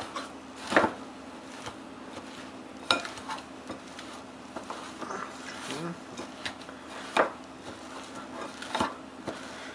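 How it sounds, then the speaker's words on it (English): A pastry blender chops butter, sugar, almonds and flour together in a bowl for a cherry pie, with repeated dull scraping strokes and a few sharper knocks, heard under a soft, continuous background. "I'm just going to start chopping all that together with our pastry blender."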